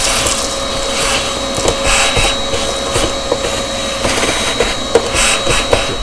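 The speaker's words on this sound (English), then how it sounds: "Only thing you need is vacuum cleaner with a hose." Vacuum cleaner with a hose cleaning the built-in grinder of a Breville Barista Express BES870 espresso machine, a loud, steady motor roar with a constant whine, small knocks and rattles as the hose moves, no talk.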